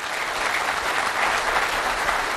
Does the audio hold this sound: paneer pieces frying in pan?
no